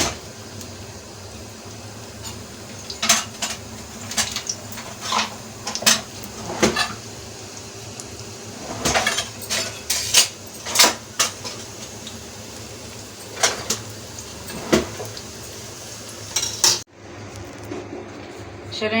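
A spoon stirring onions frying in a cooking pot, irregular metallic scrapes and clinks against a steady low sizzle and hum, with quieter gaps between bursts of stirring and a voice speaking now and then.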